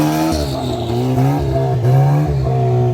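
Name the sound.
turbocharged 2-liter four-seater Pro R off-road vehicle engine revving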